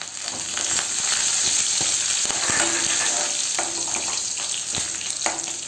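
Garlic and curry leaves frying in hot oil for a traditional brinjal thokku, a steady loud crackling sizzle with scattered sharp pops and faint stirring scrapes throughout, no talking.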